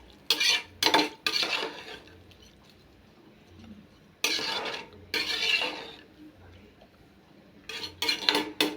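Soaked basmati rice being stirred into boiling water in a pot for mint pulao, giving several short bursts of scraping and clinking from a utensil against the pot, close and fairly quiet, with pauses between strokes.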